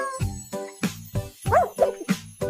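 A dog barks repeatedly in short, close, evenly spaced woofs, with a few higher yelping notes mixed in.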